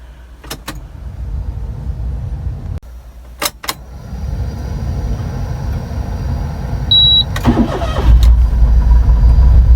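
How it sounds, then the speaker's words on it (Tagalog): A car idles with a rough misfire after its ignition coil and spark plugs were replaced. The engine cranks and catches after sharp clicks, then runs loud and close with an uneven, stumbling rumble. "Yun, grabe, lakas oh, lakas ng palya."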